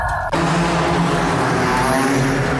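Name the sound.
cars drifting in the Autosport Show arena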